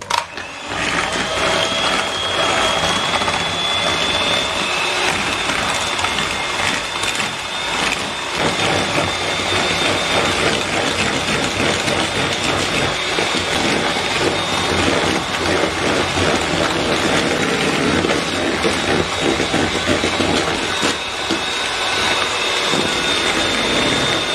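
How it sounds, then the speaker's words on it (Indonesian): Electric mixer running at its highest speed, beating cake batter until pale, thick and ribbony, a loud steady whine close by that drones on without a break. "semuanya ini akan kita mixer menggunakan kecepatan paling tinggi"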